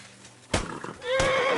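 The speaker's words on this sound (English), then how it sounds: "I hate this fucking horse." A horse in the video game Kingdom Come Deliverance 2 gives a loud, close whinny after a sharp thud, its shrill neigh wavering and falling over about a second.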